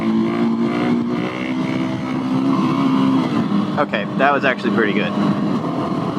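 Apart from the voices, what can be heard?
Husqvarna 701SM motorcycle with Leo Vince Nero exhaust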